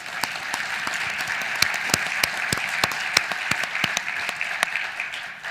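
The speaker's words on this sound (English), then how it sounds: "give a round of applause and congratulate the 3 people who just pitched" An audience at a pitch event applauds three presenters, a moderate room of clapping with distinct sharp claps standing out over a steady patter, no speech.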